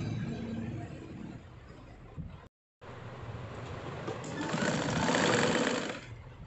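A sewing machine stitches small fabric scraps together with a continuous rattling whir. There is a brief stop in the middle, then the stitching runs on and grows slightly louder near the end. No voices are heard.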